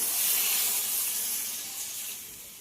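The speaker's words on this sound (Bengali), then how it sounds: "পরিমাণ মতো এতে জল দিয়ে দেব।" Water poured into a pan of frying spiced potatoes and chana dal gives a steady bright hissing rush, loud at first and easing off slightly over a few seconds, with no talk.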